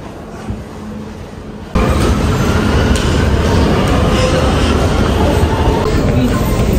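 Metro train arriving at an underground station, a sudden loud rush of rumbling, roaring noise that begins abruptly and then holds steady, with faint rail clatter.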